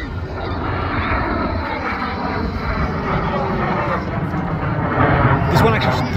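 An aircraft flies overhead at the Temora air show, a steady, loud engine drone that fills the whole stretch without a break, with crowd noise and people talking underneath it.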